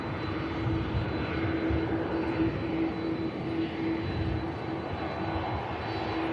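A 25-year-old Airbus A319 lands at Manchester Airport on a flight from the capital, a steady, continuous jet engine roar with a droning tone, moderately loud and unbroken, with no talking.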